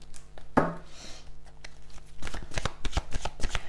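Tarot cards being shuffled during a card reading: a soft riffle near the start, then a long run of quick, close papery flicks and taps that grows denser and louder toward the end, with no talking.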